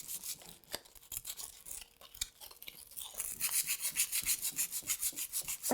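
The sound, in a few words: rubbing to distress Marabu Chalky Chic paint on wood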